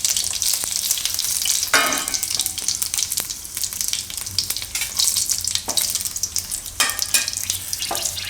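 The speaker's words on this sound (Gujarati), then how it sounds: "તો તેલ આપણું ગરમ થઈ ગયું છે. તો એમાં નાખશું આપણે થોડું જીરું આખું" Whole cumin seeds, red chillies and bay leaves sizzle steadily in hot oil, a close, continuous frying hiss with occasional sharper crackles and spoon-stirring bursts throughout.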